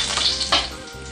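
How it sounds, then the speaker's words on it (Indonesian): Sliced ginger sizzles and crackles in hot oil in a wok, loud and close, with a brief scrape of stirring midway through. "oseng jahe"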